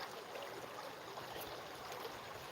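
A village river flows in a steady, faint, broadband rush of water that stays constant throughout with no talking over it.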